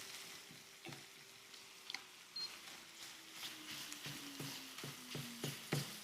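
Sausage meat sizzles and fries in a pan while a spoon presses and scrapes it, with a steady soft crackle under occasional louder scraping strokes, quiet and close.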